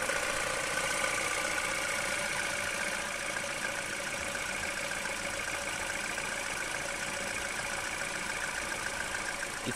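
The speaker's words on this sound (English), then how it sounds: "now you can listen to this crappy engine." A Citroen Peugeot 1.6 VTi EP6 petrol engine with a replaced timing chain idles steadily and evenly for about ten seconds, heard close with a busy, ticking mechanical hum and no talk.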